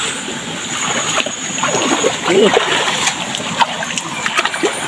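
Water of a creek splashing and sloshing nearby, a continuous, fairly loud wash with scattered splatters and faint voices in the background.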